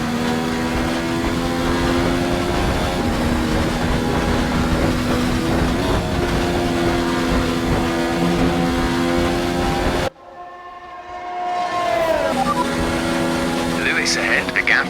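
A Mercedes Formula 1 car in a racing video game, its engine slightly down on power and showing minor wear. The engine gives a loud, steady high-revving drone, then drops sharply and climbs back up as the car shifts through gears.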